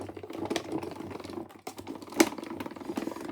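Scissors cut paper for a handmade card in a quick series of close crisp snips and crunches, one sharper cut standing out near the end.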